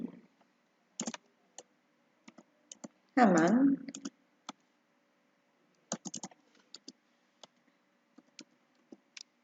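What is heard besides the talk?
typing on a computer keyboard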